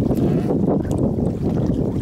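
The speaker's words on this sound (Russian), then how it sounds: "Есть ветер." Loud, blustery wind buffeting the microphone on the Umba River, with a continuous low rumble, close and unbroken for the whole stretch.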